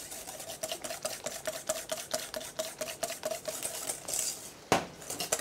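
Rapid rhythmic whisking of egg yolks and sugar in a bowl, a steady close clicking of the whisk against the sides with a sharp knock near the end.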